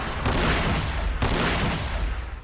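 Two heavy super cannon blasts in quick succession, loud and booming, each trailing into a rumbling roar, from the video game Warhammer 40,000: Sanctus Reach.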